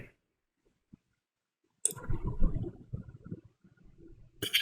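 A mouse button clicks on a Windows 11 PC during a MySQL 8.4 installation, a couple of sharp isolated clicks set apart from a burst of low, rumbling handling noise in between.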